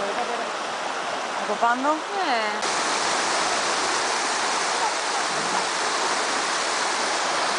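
The Evinos river rushes with a loud, steady broadband roar of flowing water. Someone speaks briefly over it early on.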